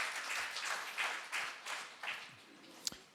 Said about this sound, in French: Et on peut applaudir le Seigneur tout en s'asseyant.